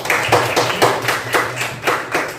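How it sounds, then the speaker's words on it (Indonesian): A classroom group claps together in a steady rhythmic beat, about five even bursts per second, close and fairly loud, with no talk over it. "Oke, kita beri aplaus dulu."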